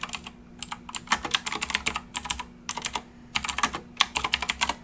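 Rapid bursts of keystrokes on a computer keyboard, clustered into quick runs of clicks with short pauses between, close and clear over a faint background hum.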